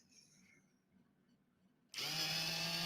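A Dremel rotary tool suddenly whirs to life after near silence, a loud, steady high-pitched buzzing drone that continues to the end.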